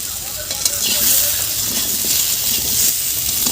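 Ghuti beans sizzle steadily while frying with salt in a pan, a continuous bright crackle with faint stirring scrapes underneath.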